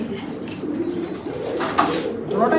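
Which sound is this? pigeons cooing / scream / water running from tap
pigeons cooing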